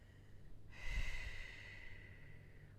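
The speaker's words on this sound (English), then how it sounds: "Breathing out. Use that breath out to help you relax." A person exhales audibly during a stretching exercise, one long breathy outward rush lasting about two seconds, faint and close against a quiet hiss.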